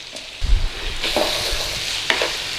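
Onions and leeks for a cheese, leek and potato pie hit a hot pan with a burst of loud sizzling, then settle into a steady close fry with a few spoon scrapes and clatters.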